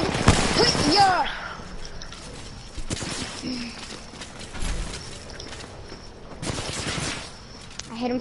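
Bursts of gunfire in the video game Apex Legends crack out in a loud cluster at the start, then return in scattered shots and short volleys while voices talk over the action.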